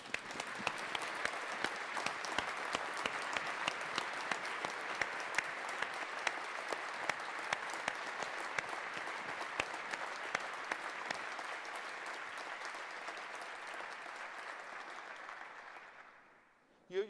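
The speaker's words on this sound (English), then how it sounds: "join with me in applauding the supporters who for various reasons are not here today, but also the student supporters happily present" An audience at an Edinburgh University engineering graduation ceremony breaks into sustained applause, dense clapping filling a large hall for over fifteen seconds before fading out abruptly.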